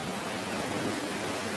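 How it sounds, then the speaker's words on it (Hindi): Rain pours steadily at night during a storm on a forest road, a dense, even hiss of falling water with no voices over it. "अरे भगवान, ये बारिश भी आज ही होनी थी।"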